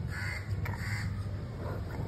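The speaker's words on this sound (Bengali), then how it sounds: "কাক ডাকছে, কাক।" A crow caws outdoors, two harsh, rasping calls in quick succession at moderate distance over faint background ambience.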